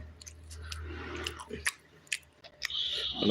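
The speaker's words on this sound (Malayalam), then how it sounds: "നമുക്ക് ചിക്കൻ ഫ്രൈ ഒന്ന് എടുത്ത് കഴിക്കാം" Someone eating spicy chicken fry up close, with moist chewing and a few crunchy bites and smacks in uneven bursts over a low background hum; no talking.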